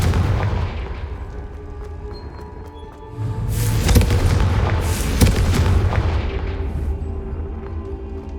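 Confringo blasting spells explode in the Hogwarts Legacy video game: a series of loud, booming blasts with crackling bursts, strongest midway, over a low rumbling game backdrop.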